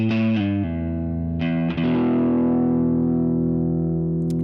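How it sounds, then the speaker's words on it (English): An electric guitar runs through an overdrive pedal on a Boss GX-10 into a low-gain amplifier, sounding a few distorted, sustained chords that ring out and decay slowly, played alone and close. "I'm relying on this overdrive pedal to give me something I like."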